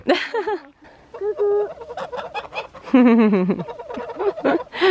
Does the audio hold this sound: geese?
yes